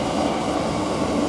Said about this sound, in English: We've got a train coming through,